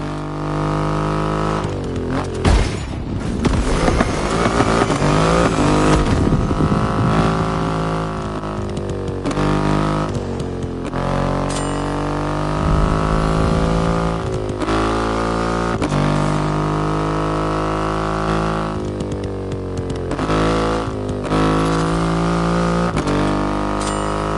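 A loud Triumph motorcycle engine runs steadily throughout, its deep rumble swelling and revving at moments, with no voices.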